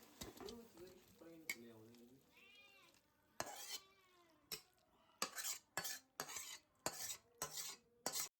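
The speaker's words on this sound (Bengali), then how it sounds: "এবারে কিন্তু একটা পাত্রে এটাকে ঢেলে নিতে হবে" Prawn and bottle gourd ghonto is scraped from a pan into a serving bowl, a quiet run of sharp metal spoon clinks and scrapes following a brief tonal, voice-like sound near the start.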